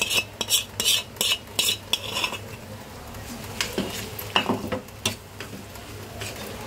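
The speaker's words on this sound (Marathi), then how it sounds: "याला मसाल्यामध्ये पूर्ण परतवून घ्यायचं." Fried shevla (dragon stalk yam) is stirred into masala in a pan, with a spoon scraping and clinking in quick, rhythmic strokes over a faint sizzle, close up.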